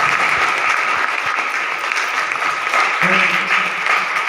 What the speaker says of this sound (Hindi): जोरदार उनके सम्मान में तालियां चाहूंगा